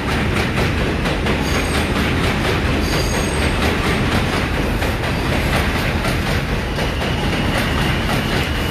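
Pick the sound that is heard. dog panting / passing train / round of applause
passing train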